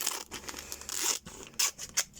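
Scissors snip through clear plastic packaging used as acetate, making crisp crinkly cuts and rustling in short uneven bursts close by.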